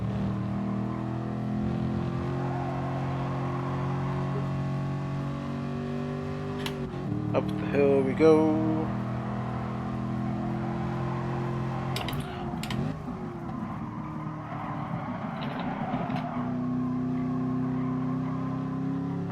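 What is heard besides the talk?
Chevrolet Camaro race car engine in Gran Turismo Sport video game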